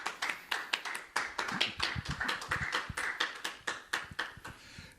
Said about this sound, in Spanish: dele un aplauso al que vive para siempre